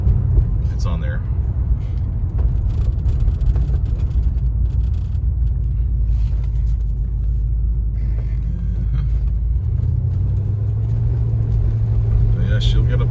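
A 1973 Cadillac Fleetwood with 18K original miles runs and drives, its engine a steady loud low rumble throughout, with a voice talking over it.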